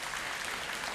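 A brief, steady burst of audience applause after a Veterans Day speech, even and continuous, fairly soft and at a distance.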